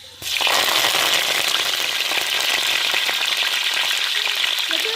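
Fenugreek seeds and curry leaves dropped into hot oil burst into loud, steady crackling sizzle that continues without a break.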